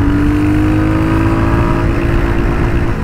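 A Royal Enfield Hunter 350 motorcycle pulling hard in second gear on an open road, its engine drone rising steadily in pitch, loud and close with continuous wind rush.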